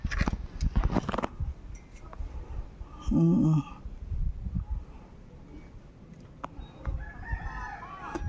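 A rooster crows once in a short, strained burst midway through, set against quiet outdoor rustling and scattered knocks from a rural coop on a rainy day.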